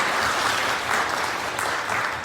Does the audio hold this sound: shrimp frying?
no